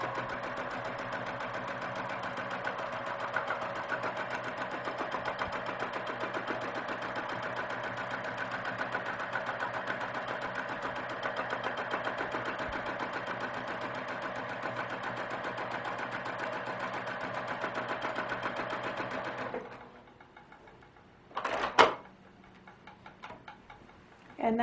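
A sewing machine runs continuously while stitching a quilt pattern, its rapid needle ticking and motor hum steady for about twenty seconds before stopping, followed by a couple of short clicks and mechanical adjustments.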